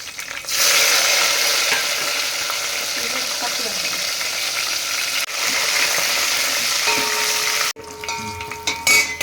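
Dried red chillies and garlic fry in hot oil in a home kitchen, giving a loud, steady broadband sizzle with a few stirring scrapes and clicks, ending in a short, more uneven crackle after a brief drop.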